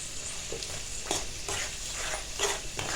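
A turmeric pickle tempering fries in a pan while a spoon stirs it, with soft steady sizzling broken by several distinct scraping strokes against the pan.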